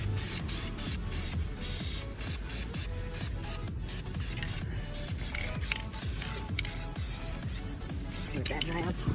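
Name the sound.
spray painting Brembo brake calipers fluorescent yellow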